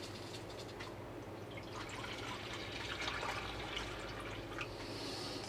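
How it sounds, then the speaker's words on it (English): Fresh water pours over a dirty water bowl in a western diamondback rattlesnake's enclosure, giving a steady close splashing and trickling wash that builds slightly toward the middle, with no talk. "I always like to like to pour fresh water over top of a dirty water bowl."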